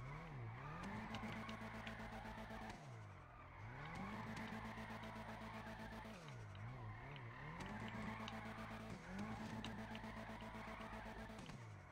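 A car drifts in GTA V on PC, its engine revving in repeated rising and falling cycles while tires squeal and skid continuously through each slide, steady and up close.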